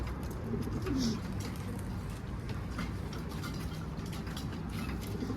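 Fancy pigeons of the Elvan breed coo softly in a loft, with low, faint murmuring calls over a steady background hum.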